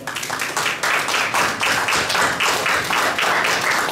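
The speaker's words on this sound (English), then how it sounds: "give yourself a round of applause" An audience at a conference session in Ghana breaks into a steady round of applause, dense overlapping claps filling the room continuously at a fairly loud, even level without any talking.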